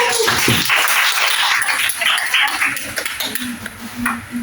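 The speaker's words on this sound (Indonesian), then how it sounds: "beri tepuk tangan dulu kepada kelompok 2" A classroom of students claps for a student group during a Pancasila lesson, close, brisk clapping that thins and fades toward the end over a faint steady hum.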